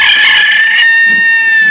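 A rooster crows a loud, close, drawn-out cock-a-doodle-doo that rises and holds a strained final note.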